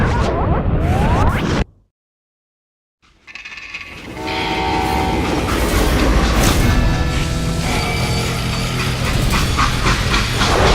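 A freight train runs loudly in Call of Juarez Gunslinger: a brief roar cuts to silence, then a close rumble of wheels and cars builds with whistle-like tones and a steady rolling clatter.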